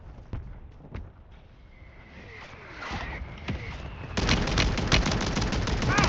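Gunfire in the video game Warzone 3, Plunder mode: scattered sharp shots early on, then a louder, dense stretch of rapid firing and impacts toward the end, with game sounds beneath.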